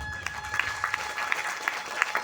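Seminar audience clapping for the newcomers among them, a steady patter of many hands with scattered sharper claps throughout, moderately close and without talk.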